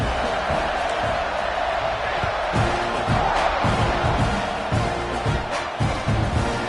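A college football stadium crowd roars steadily during a kickoff, a broad, constant wash of cheering with bursts of louder shouts throughout.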